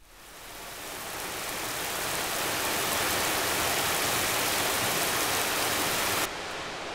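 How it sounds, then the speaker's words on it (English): A synthesized rain sound effect made to cover the whole frequency range swells up from nothing into a dense, loud, steady hiss, then drops slightly near the end, with no voices. "this is a rain sound that I made to actually cover the whole frequency spectrum"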